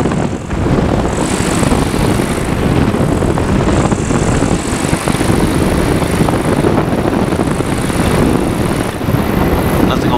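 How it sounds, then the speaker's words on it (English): A flexwing microlight comes in to land with its propeller engine droning loudly and continuously nearby, a steady buzzing roar that holds for the full stretch with no clear speech. "Come on, do a decent landing, Giles."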